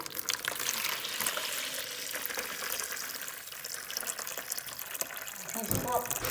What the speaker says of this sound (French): je vide simplement l'eau